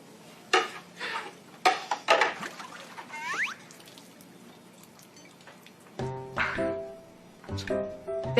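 Dishes being washed at a sink, with plates and utensils clinking and clattering in short bursts, quiet stretches between, and running water or rinsing near the end.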